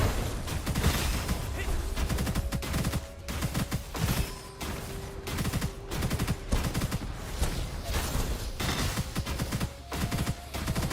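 Dense, continuous rapid gunfire from enemies in Gunfire Reborn, a relentless clatter of overlapping shots and impacts that stays loud throughout with brief dips in intensity.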